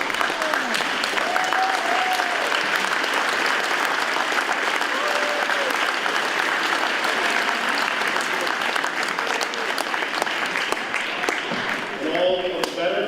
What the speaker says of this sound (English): let's give a round of applause to Martin Chupdow